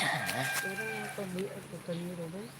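Chickens cluck and a rooster gives a partial crow, close by, with people talking in the background.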